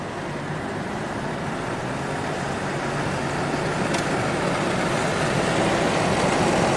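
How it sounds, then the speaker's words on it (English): A 1985 Oldsmobile car accelerating, with a steady broadband engine and road roar that slowly builds in loudness over several seconds, heard from inside the car and with no talking. "let's do another little acceleration here"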